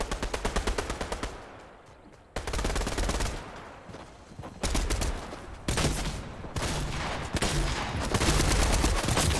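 Rapid automatic gunfire in a Fortnite match, loud bursts of shots fired in quick repeated volleys with brief pauses between them, continuing steadily throughout.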